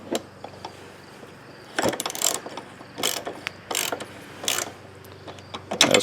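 A ratchet wrench clicks in several quick bursts while tightening the head bolts of a Powermore 139cc engine during a head gasket job, loud and close with short pauses between turns.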